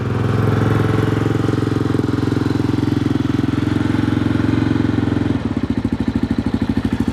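A Yamaha Super Tenere motorcycle engine idles steadily and close by after warming up, then shifts to a slower, lumpier chugging beat near the end.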